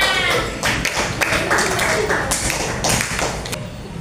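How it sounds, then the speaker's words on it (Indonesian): A crowd claps together in a steady, dense burst of applause lasting several seconds, fairly loud and continuous. "coba beri tepuk tangan buat semuanya"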